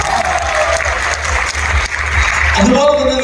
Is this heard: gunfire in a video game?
no